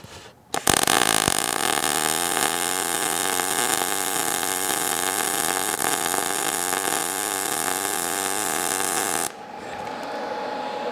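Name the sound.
MIG welding arc at zero inductance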